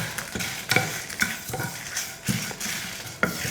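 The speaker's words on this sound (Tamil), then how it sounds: "இப்போ இதை வறுத்துக்கலாம்." Ingredients for chickpea kulambu dry-roasting in a pan, with steady stirring and scraping and a series of sharp spatula clicks against the metal over a faint crackle, close and alone.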